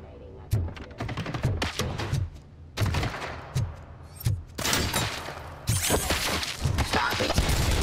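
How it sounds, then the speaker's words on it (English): UED robots firing guns in RoboCop Rogue City, repeated loud bursts of gunfire and impacts in uneven clusters with brief gaps between them, growing denser toward the end. "Oh, those UEDs shoot so beautifully. Too bad they're shooting at me!"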